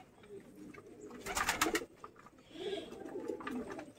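Racer pigeons, a male among them, coo in a low, soft burst that swells briefly, then murmur on more quietly near the close, picked up up close in a loft.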